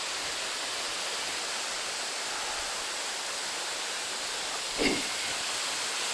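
Middle Falls at Somersby Falls in Brisbane Waters National Park, a steady broadband rush of falling water heard close and continuous, with one brief bump partway through.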